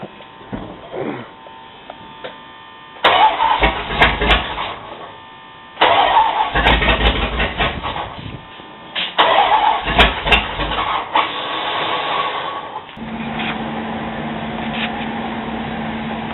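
A 1970 Plymouth Cuda engine is cranked in three loud bursts with pauses between them, then catches and settles into a steady rough idle.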